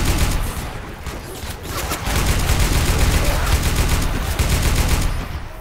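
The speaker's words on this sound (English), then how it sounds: "Shoot the damn tank!" Sustained automatic gunfire aimed at the Tank in Left 4 Dead 2, a dense rapid fusillade of overlapping shots, loud and near, nearly continuous across the whole stretch.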